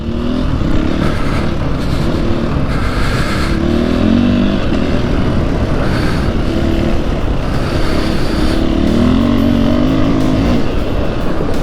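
A Husqvarna 501 FE dirt motorcycle engine runs steadily on an Oregon ride, its loud, buzzing drone rising and falling with throttle changes for the whole stretch, close and continuous, with no talking.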